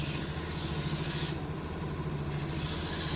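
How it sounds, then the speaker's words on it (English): A knife edge is polished on a Vevor 1x30 belt grinder, giving a steady, close abrasive hiss that dips quieter for about a second in the middle of the pass before returning at full strength. "And while we're polishing the edge, we're actually removing that loose material."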